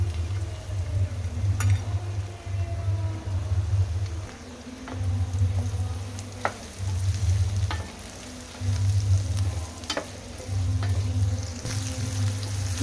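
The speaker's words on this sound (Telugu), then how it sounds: "బీరకాయని బాగా ఫ్రై చేసుకోవాలి" Ridge gourd pieces fry in a pan with a continuous soft sizzle, broken by periodic bursts of stirring that come and go every couple of seconds, close up, with no one talking.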